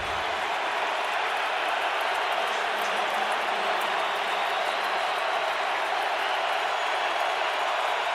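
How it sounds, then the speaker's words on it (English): Continuous roar of a football stadium crowd at a Patriots versus Colts NFL game, a loud, dense wash of cheering and voices that holds steady throughout with no pauses. "Crowd really into it"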